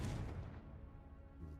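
A Confringo fire spell from Hogwarts Legacy bursts as a single loud, deep boom that rumbles briefly and tapers off.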